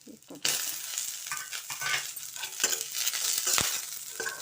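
Dried red chilies fry in hot oil in a pan, giving a steady, close sizzle with crackling bursts and occasional stirring scrapes, loud and continuous after a brief quieter start.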